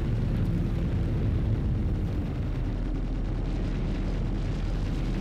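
Spaceship weapons fire in Star Citizen during an attack on an Idris, a loud, continuous booming roar with dense low rumble that holds steady throughout, with no speech.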